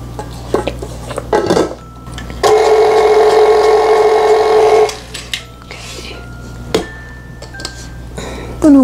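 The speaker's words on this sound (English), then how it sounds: "Scrape the bottom, make sure everything's getting incorporated." A spatula scrapes around the bottom and sides of a mixing bowl of white chocolate chip macadamia nut cookie dough, with scattered knocks and clinks and a sustained stretch of a stand mixer running in the middle.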